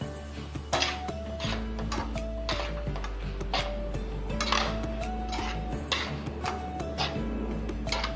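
Dry poha, flattened rice, being stirred and tossed in a bowl, giving repeated clinking scrapes of a spoon against the dish and a soft rustle over a steady low hum, with no talking.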